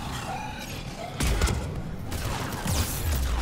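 Gunfire in the video game Mass Effect 3, loud bursts and booming shots over continuous combat noise, with a player's voice faintly present.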